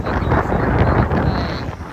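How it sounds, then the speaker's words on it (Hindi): Strong wind buffets the microphone on a roadside pilgrimage walk, a loud continuous rumbling roar with gusty swells and no voices. "बहुत तेज हवा चल रही है"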